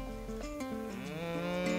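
Cattle on a small farm lowing, one drawn-out harmonic moo rising and falling in pitch, close and alone.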